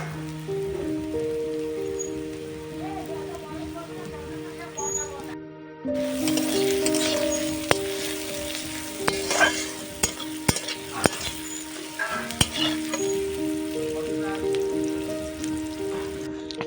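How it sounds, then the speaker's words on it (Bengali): Sliced onions sizzling in hot oil in a pan while a spatula stirs them, steady crackling fry with scattered scraping knocks, and soft background music running underneath. "খুব দেখুন পেঁয়াজটা ভেজে নিচ্ছি, এরপর একে একে মশলাগুলো দিয়ে কষাতে থাকবো।"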